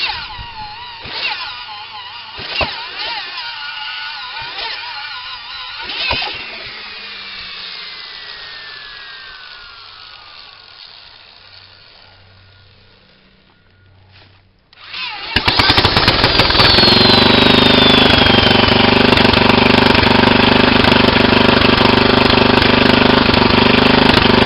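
A small engine is spun over by an electric drill, first with several sharp knocks and a whining drill winding down, then the engine catches and roars into a loud, steady, rough running drone.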